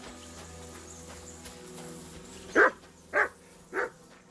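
Three sharp dog barks sound in the medieval game Kingdom Come Deliverance 2, spaced about half a second apart over a low ambient bed with faint background music.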